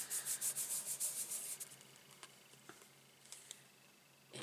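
Ink being rubbed into card: a brisk run of soft, rhythmic scrubbing strokes close by, then quieter scattered taps and light rubs, with no talking.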